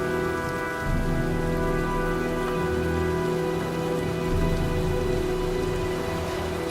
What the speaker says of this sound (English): Well, looks like a storm's coming.